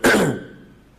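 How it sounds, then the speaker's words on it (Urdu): A man with an irritated throat coughs and clears his throat once, a close, loud burst at the start that fades quickly into a quiet room. "بار بار کھانس رہا ہوں, معذرت."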